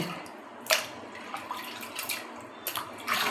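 Raw biryani chicken pieces rinsed with tap water in a basket, a continuous splashing stream with several sharper bursts and clatters as the meat is moved around.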